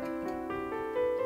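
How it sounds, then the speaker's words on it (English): A sustained synth chord in the Lydian mode rings out with smooth stacked tones, shifting softly through a few voicings over about a second, clean and moderately quiet with no other sounds. "one mode which is very popular is the Lydian mode, which would sound like this."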